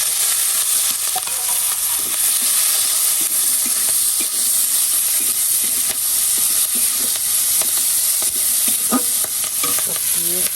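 Potatoes, cumin, onions and chillies fry in a little oil, giving a loud, constant sizzle and hiss with frequent stirring scrapes and clinks, close up and with no voices.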